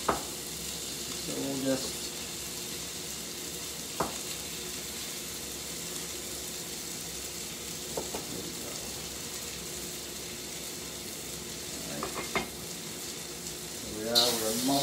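Bacon frying in a pan with ginger and garlic for Sichuan green beans, giving a soft, steady sizzle with occasional clicks and stirring knocks, and a voice briefly speaking.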